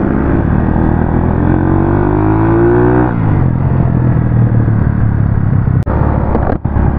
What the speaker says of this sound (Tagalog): Malakas yung motor niya.